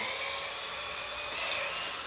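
A power drill bores straight through wood, a steady high-pitched grinding whir that holds at close range for a couple of seconds with no one talking.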